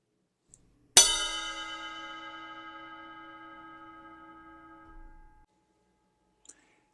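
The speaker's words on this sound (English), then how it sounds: "we're going to play the ride cymbal, and we're going to play it on the bell of the ride cymbal." One clean, bright ding as a drumstick strikes the bell of a ride cymbal, ringing out alone for about four seconds before fading, with faint taps just before and after.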